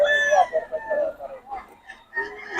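Local banded stag roosters at a busy poultry sale in Bocaue crow and cluck close by, with several overlapping calls rising and falling across the stretch.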